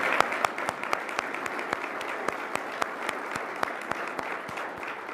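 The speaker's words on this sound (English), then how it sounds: "That, I think, deserves an applause." An audience claps together for a speaker at a formal talk, a dense, steady wash of applause with sharp individual claps standing out throughout; no one talks over it.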